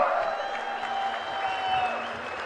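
A crowd at a political rally for Chandrababu Naidu applauding, a dense wash of clapping mixed with a sustained tonal hum from the PA, steady and moderately distant.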